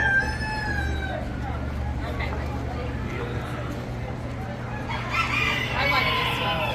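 A rooster crows among chickens in a garden, with clucking and other fowl calls mixed over a steady low hum and faint background voices.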